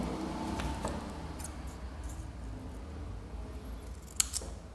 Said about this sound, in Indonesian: kita gunting persegi panjang ini buat kaki